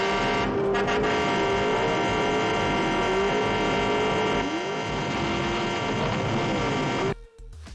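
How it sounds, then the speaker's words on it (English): A pair of Hadley Ambassador rectangular bell horns of the kind fitted to 18-wheelers blares in one long, loud, continuous honk with a slightly wavering pitch, cutting off abruptly near the end. "The unmistakable sound came from a pair of Hadley Ambassador rectangular bell horns that you'd find on 18-wheelers."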